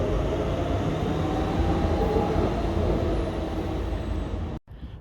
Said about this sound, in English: there's even the Docklands Light Railway with several stations like this one here at Pudding Mill East.